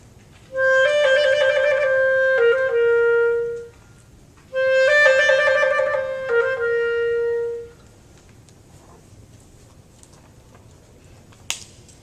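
A clarinet plays a short étude passage twice, each time a rapid trill stopped and then held as a sustained note, with a pause between the two takes; clear and close, ending with a faint click.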